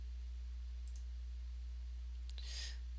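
Computer mouse clicks, two faint short ticks against a low steady hum, followed by a brief soft rustle.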